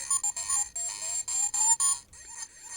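Sampled Pac-Man arcade sounds from a desktop arcade machine: a loud, steady run of bright, chirpy electronic tones in quick repeating bursts, with brief gaps and no voices.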